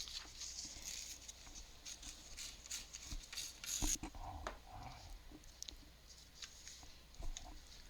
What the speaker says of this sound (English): just tear it.